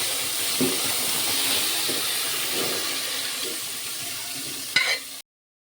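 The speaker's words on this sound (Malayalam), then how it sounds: "അതിലേക്ക് വേവിച്ച് വെച്ച ചിക്കൻ ഇട്ട് കൊടുക്കാം." Cooked chicken tipped into a hot pan for a chicken curry and stirred, giving a steady broad sizzle with soft stirring scrapes and a sharper clatter near the end.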